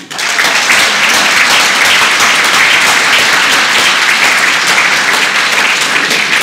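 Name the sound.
audience applauding at political meeting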